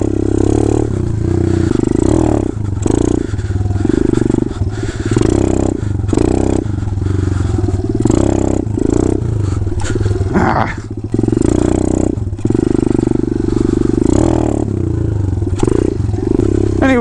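A motorcycle revving hard during clutch kick wheelies, a loud, close engine with repeated surging revs and throttle blips, wind and rumble under it throughout.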